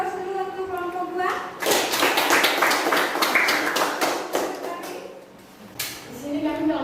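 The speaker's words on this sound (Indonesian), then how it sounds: "Berikan aplaus dulu untuk kelompok 2." Classroom applause for a student group, a dense burst of many hands clapping at close range that lasts several seconds and then tapers off, with voices before and after.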